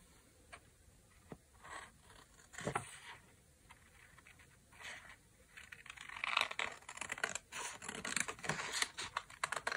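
Paper being cut with scissors for handmade faux autumn specimen cards, a run of crisp snips and rustling scrapes that grows denser and louder toward the end, close up with no talking.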